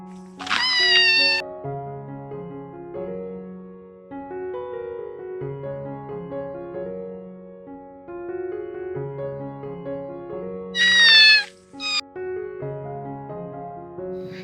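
High-pitched meows from black kittens sound twice, once near the start and again later, over soft, gentle background music.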